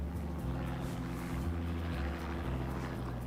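A police helicopter in a car-chase video game produces a steady, droning rotor and engine hum with a low pulsing throb, constant and fairly loud, with no talk.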